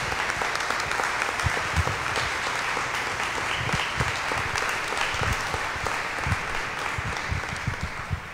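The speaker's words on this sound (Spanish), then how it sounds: "Un fuerte aplauso" Steady, full applause from an audience at a Christian talk on gender ideology, many hands clapping evenly at moderate volume for several seconds with no speech over it.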